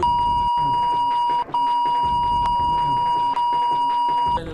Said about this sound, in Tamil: ஏப்பா எடிட்டர் இது கொஞ்சம் பீப் போட்டுக்குப்பா